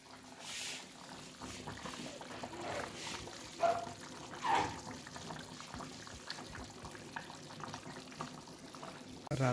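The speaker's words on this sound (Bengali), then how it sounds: "ঝোলের পানি দিয়ে দেব" Water for gravy is poured into a pan of chicken skin and new potato curry, a soft trickling splash with a few faint bumps and clinks, quiet and low overall.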